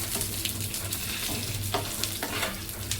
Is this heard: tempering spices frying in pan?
yes